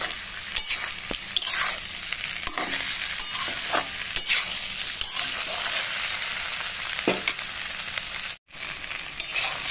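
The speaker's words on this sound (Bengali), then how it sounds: "দিয়ে আমি ভালো করে নেড়ে চেড়ে এবার এখানে ভাজবো।" Eggplant and potato pieces fry in a pan while being stirred, a steady sizzle broken by repeated scraping and tossing strokes at close range, with no voices.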